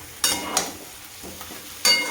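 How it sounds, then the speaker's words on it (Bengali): Spiced chicken is stir-fried in a pan, giving a low background sizzle broken by three sharp scraping strokes of a spatula, heard up close. "দিয়ে আবারও ভালো করে এটাকে ভালো করে কষবো"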